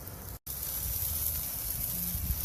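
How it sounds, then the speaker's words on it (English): Chicken sizzles steadily in a pan, a close broadband hiss broken only by one brief dropout near the start. "Hear that sizzle, y'all."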